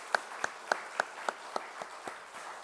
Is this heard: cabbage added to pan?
no